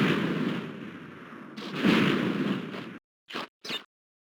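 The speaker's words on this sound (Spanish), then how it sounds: "por cómo suenan estos pilares no quisiera pasar por debajo cuando estén aplastando el suelo" Heavy stone pillars slam down onto the ground in a Crash Bandicoot level, a loud rumbling crushing impact followed by two short sharp thuds after a brief silence.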